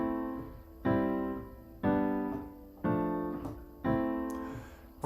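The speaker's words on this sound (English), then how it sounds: "you can hear the break in the chords" Four piano chords played without the sustain pedal, struck at a steady pace, each sounding and then cut short, leaving brief gaps between them instead of a blended, ringing tone.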